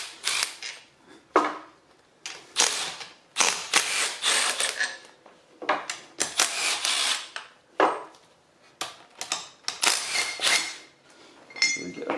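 A ratchet and wrench work four 18mm bolts loose from a Nissan Leaf EM57 motor bracket, giving close, irregular metallic clicks, clinks and scrapes in quick bursts separated by short pauses.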